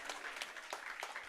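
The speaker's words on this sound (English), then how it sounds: "There you can hear the clapping in the background as well." Faint, distant clapping from an esports tournament crowd, a scattered patter of hands heard far off in the background.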